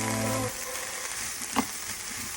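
Cabbage and mixed vegetables stir frying in a hot pan, a steady broadband sizzle running throughout with a low hum in the first half second and one brief clack partway through.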